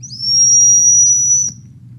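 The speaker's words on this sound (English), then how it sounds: "What I like about silent dog whistles is that they carry a long way." An adjustable silent dog whistle gives one steady, piercing high-pitched tone lasting over a second, loud and close over a faint low background hum.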